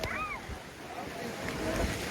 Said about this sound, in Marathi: Reverse waterfall.